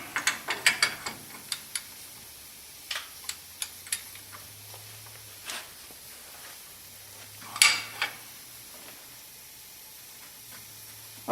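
Bolt being tightened on the suspension of a Ford E-350 van during ball joint and tie rod work, heard as sparse metallic clicks and ratcheting ticks in bursts, close and fairly quiet over a low steady hum.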